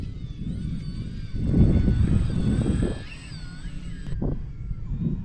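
An E-flite Mini Draco RC plane flies at half throttle, its small electric motor giving a steady whine that rises and shifts in pitch as it passes, with wind noise under it.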